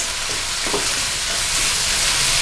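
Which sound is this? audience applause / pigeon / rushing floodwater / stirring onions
stirring onions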